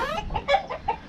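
A dominant backyard rooster named Cogburn gives a quick run of short, close clucks, four or five in about a second.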